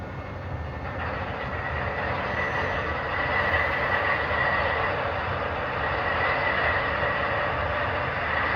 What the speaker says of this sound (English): press function 3, which starts up the locomotive